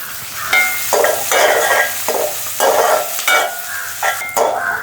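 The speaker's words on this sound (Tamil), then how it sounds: "அதோட வந்து உள்ளி, பச்சை மிளகாய், மற்ற பம்பா வெங்காயத்தையும் போட்டு நல்ல வடிவாக வதக்குவோம்" Garlic, green chilli and onion sautéing in hot oil for vegetable noodles, a loud close sizzle swelling in repeated bursts as a spoon stirs and scrapes the pan, with no voices.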